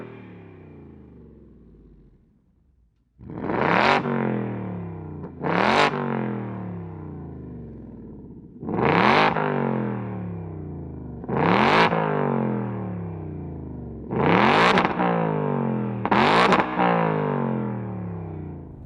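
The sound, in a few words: sports car valved exhaust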